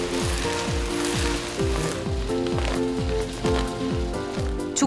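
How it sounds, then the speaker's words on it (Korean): Stingray yolk sizzles in its own rendered oil while being stir-fried, a continuous crackling fry with a rhythmic series of sweeping tones repeating throughout and no talk. "1시간쯤 볶자 조금씩 지글대는 노른자."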